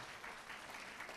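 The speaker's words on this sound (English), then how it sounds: "Let's give everybody that supports libraries a round of applause." Guests at a library foundation gala break into brief, steady applause, a faint continuous patter of many hands clapping.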